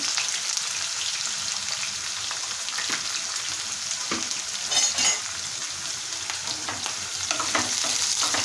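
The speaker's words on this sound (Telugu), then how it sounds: "వేసుకొని మంచిగా ఫ్రై చేసుకోండి ఆనియన్స్ని" Onions and green chillies frying in a pan give a steady, dense crackling sizzle with scattered pops and a few louder bursts of spattering throughout, close and without speech.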